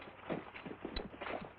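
Horse hooves clip-clop faintly in an old western TV drama set around Fort Marcy, Santa Fe, and Fort Whipple: soft, evenly spaced hoofbeats in a steady walking rhythm at a distance.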